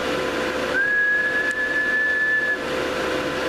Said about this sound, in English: Whistle into it, it's a lot louder.